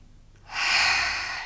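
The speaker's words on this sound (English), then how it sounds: "We call this lion's breath." A single forceful breath is pushed out through an open mouth after a quiet inhale through the nose, a breathy rushing exhale that swells quickly and then fades slowly, close and alone.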